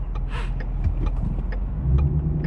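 A Ford Mustang V8 being driven through town: a steady close engine drone with low rumble and slight surges, continuous for a few seconds with no speech.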